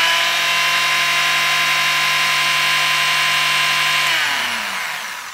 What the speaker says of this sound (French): Je les vibre sur une petite ponceuse vibrante pour les placer.